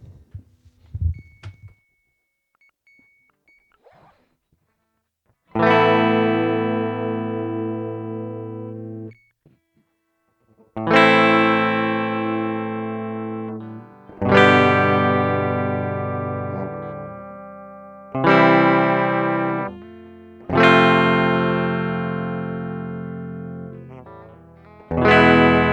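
Clean electric guitar through an RFM guitar pedal, a string of sustained plucked notes and chords, each ringing out and fading before the next, clear and close with no talk.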